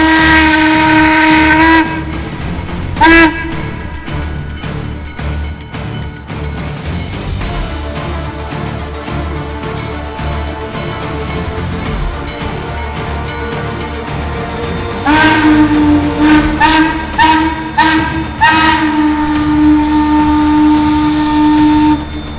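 Western Maryland Scenic Railroad steam locomotive 1309 hauls a heavy train out of Cumberland Station on a long climb, with loud whistle blasts at the start and again later over a steady rumbling, clanking run heard close from an open-air car.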